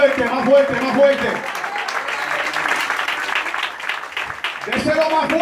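A church congregation claps together, a broad steady wash of applause in a large room, with a preacher's voice speaking over it at the start and end.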